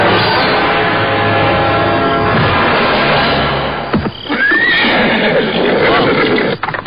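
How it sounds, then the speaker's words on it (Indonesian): Horses neigh loudly over a dense rumble of approaching hoofbeats, a crowded, chaotic wash of galloping and whinnies close by, with a sharp rising whinny cutting through near the end. "Aku mendengar derap kuda menuju kemari."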